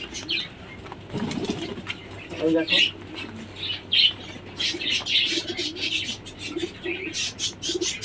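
Pigeons in a rain-soaked pigeon coop flap their wings in repeated bursts and coo and squawk close by, mixed with rustling and handling noises as someone speaks briefly.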